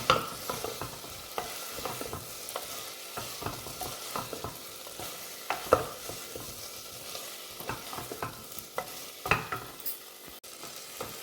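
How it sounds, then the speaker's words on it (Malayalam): Fried tender jackfruit being stirred into a masala curry in a pan: repeated scraping stir strokes over a soft, steady sizzle, close and irregular in rhythm. "ഇനി നമുക്ക് ഫ്രൈ ചെയ്ത് വെച്ചിരിക്കുന്ന ചക്ക കൂടി ഇട്ട് കൊടുക്കാം ഇതെല്ലാം കൂടെ നമുക്കൊന്ന് യോജിപ്പിച്ച് കൊടുക്കാം"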